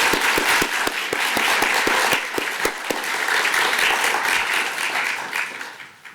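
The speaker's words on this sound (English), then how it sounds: "Can we get a round of applause for our panelists?" An audience at a housing and transit panel in British Columbia applauds the panelists, a dense sustained round of clapping with a few sharp individual claps standing out early, fading toward the end.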